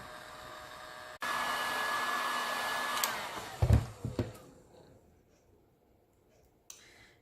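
A heat tool warming Thibra thermoplastic for cosplay work, a steady loud blowing whir that switches on abruptly, runs for a few seconds with some handling clicks and knocks, then cuts off into near silence.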